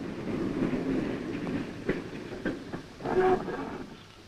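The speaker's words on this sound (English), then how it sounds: "The wagons roll off at, say, 15 miles an hour" Freight wagons roll down the hump at a marshalling yard at Whitemoor, March, giving a continuous rumbling roll with intermittent clanks and a sharp squeal near the end, heard fairly close and alone.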